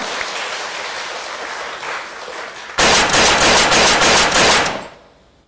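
Applause from a crowd starts out moderate and then swells into loud, dense clapping before it fades away.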